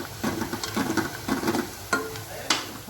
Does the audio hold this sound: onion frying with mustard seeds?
yes